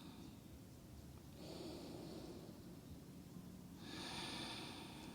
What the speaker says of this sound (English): Continuing to breathe here. Slow, steady, long breaths.